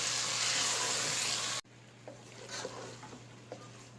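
Okra frying in a pan is stirred, a loud broadband sizzle for the first second and a half that suddenly drops away, followed by quieter scattered scrapes and clinks of the spoon against the pan.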